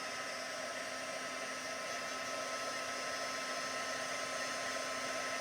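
Heat embossing tool blowing hot air to melt embossing powder on a watercolor project, a steady, loud, continuous whooshing roar from start to finish with no talking.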